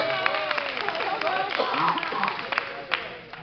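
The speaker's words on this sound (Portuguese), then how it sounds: "Dona de casa, uma salva de palmas aí" Church congregation at an Assembleia de Deus service applauding, steady crowd clapping with a few louder claps and voices mixed in throughout.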